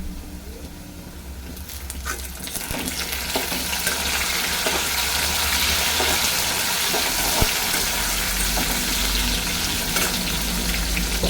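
Diced potatoes and ridge gourd with tomato frying in oil in a pan, giving a loud, continuous sizzle that builds and holds steady, with occasional stirring clicks and no talking.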